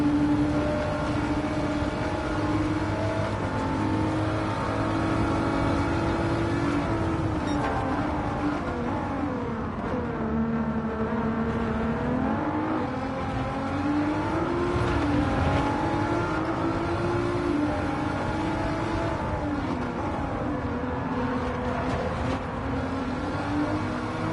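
Race cars in a racing video game, including a Supra making a pass, give a continuous droning engine whine whose pitch rises and falls with shifts and acceleration, steady and fairly loud throughout.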